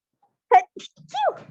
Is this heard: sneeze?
yes